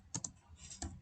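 Three or four quick keystrokes tap on a computer keyboard while code is typed, soft and close, with a brief pause between them.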